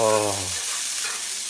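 Onions and garlic sizzle loudly in a hot oiled pan for a vegan lasagna, a brief tonal whoosh at the start giving way to steady broadband frying hiss that continues to the end with no voice.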